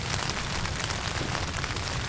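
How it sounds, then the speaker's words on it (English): Steady rain drums on a new tent pitched at a beach camp during a storm, a dense, unbroken close hiss of patter with no voices. "The weather's closed in, so it's been raining now for at least an hour or two."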